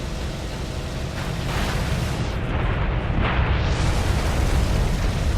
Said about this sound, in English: just dive and release a bomb while I'm close to the ground